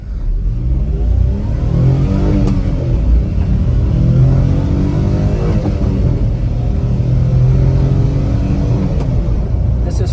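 A Daihatsu HiJet S210 kei truck's small engine drones loudly from inside the cab as it accelerates through the gears, the pitch climbing and dropping with each shift over a steady road rumble.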